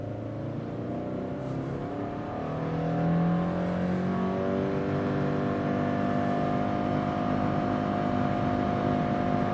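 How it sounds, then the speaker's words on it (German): A 2018 Subaru Forester 2.0X Platinum with a Lineartronic CVT accelerates at full throttle in Sport mode. The engine note climbs smoothly and steadily, swelling louder after a couple of seconds and holding a strong drone. "Ich gebe jetzt mal hier Vollgas in Sport."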